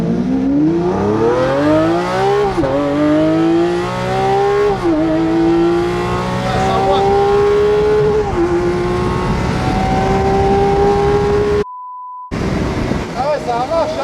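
A car launches hard from a standstill in a race against a Porsche, its engine climbing loud and close through several gears with brief dips at each shift, a short beep near the end, and voices underneath.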